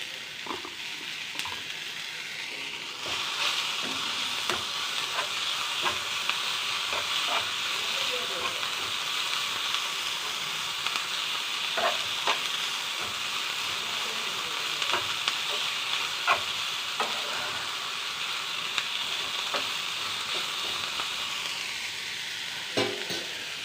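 Scraped drumstick pulp with green chili being stir-fried in a pan for a Kerala jackfruit seed thoran: constant loud hissing sizzle with repeated scraping stirs throughout, close up, faint speech in the background.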